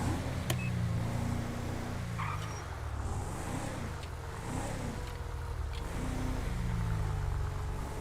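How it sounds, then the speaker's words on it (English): In GTA 5, a parked car idles with its engine left running, a close, steady low hum with gentle rising and falling revs and no talk over it. "wow, that car's left on"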